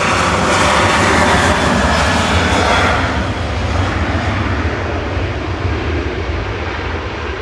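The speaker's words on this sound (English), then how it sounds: "Jet2's next up for departure, 737-800 Hotel Papa to Skiathos with flight 1739." A Jet2 Boeing 737-800 departs Manchester Airport with a loud, sustained roar of jet engines at full power. It is strongest at first, then eases slightly as the aircraft pulls away, with no talk over it.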